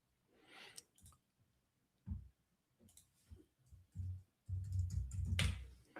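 Someone types on a computer keyboard to log in, faint, scattered key clicks and taps in uneven groups, ending in a denser run of tapping.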